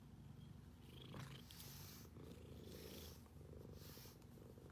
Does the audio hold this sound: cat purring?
yes